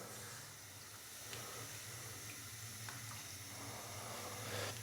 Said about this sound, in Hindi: तो 7 गिलास अभी मैंने इसके अंदर पानी डाल दिया है।